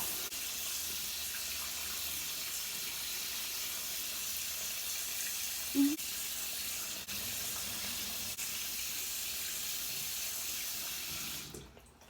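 Tap water runs steadily into a bathroom sink while someone rinses their face, a close continuous hiss and splash with a small splash midway before the flow stops near the end, and nobody speaks.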